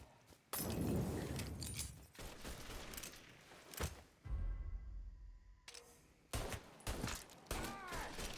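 Bursts of gunfire from the Mafia 3 video game crack out in irregular volleys during a bank robbery mission, loud and close, with gaps of quieter game ambience between shots.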